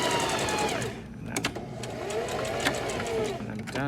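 A sewing machine stitches a band onto a V-neckline behind the stay stitch, a fast whirring run with a few sharp clicks and short pauses, fairly close and steady.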